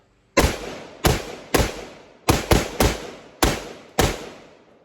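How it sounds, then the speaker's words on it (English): Gunshots come from a weapon fitted with a Malkoff light. There are eight sharp, loud, close reports in an uneven sequence, each followed by a short echoing decay, with two shots fired in quick succession near the middle. "let me do a little bit of shooting here"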